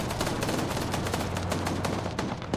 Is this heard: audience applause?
no